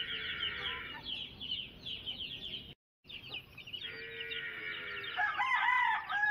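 A rooster on a farm in Kadapa crows close by in long, strained calls, with hens clucking and other birds chirping around it.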